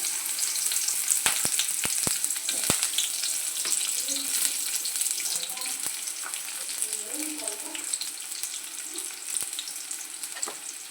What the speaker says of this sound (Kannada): ಎಣ್ಣೆ ಹಾಕ್ಕೊಂಡು ಈರುಳ್ಳಿ ಹಾಕ್ತಾಯಿದ್ದೀನಿ